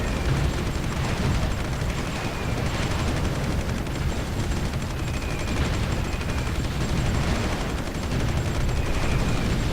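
Steady artillery fire pounds destroyers in the strategy game Supreme Ruler 2020, a dense, unbroken roar of blasts and rumbling impacts, loud and constant throughout with no voices.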